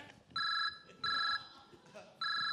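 A telephone rings in three loud electronic bursts with short pauses between them, heard close and clear over faint background chatter.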